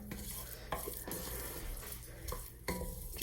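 A roux for lima beans being stirred steadily in a pot, with scraping spoon and utensil clatter against the pot and a faint sizzle beneath, continuous and close.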